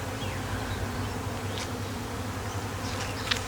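Honeybees from a weak hive buzz on a frame in a continuous low drone close by, with a few brief higher flickers as individual bees pass near.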